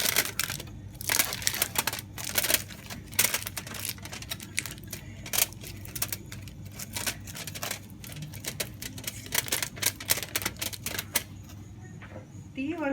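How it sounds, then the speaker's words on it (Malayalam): Aluminium foil crinkles and crackles as it is pressed tightly over a pot of kudukkachi biryani to seal in the steam, a close, irregular run of sharp rustling clicks and crunches. "ഇത് മൊത്തത്തിലൊന്ന് ഫോയിലോട്ട് കവർ ചെയ്തെടുക്കാം"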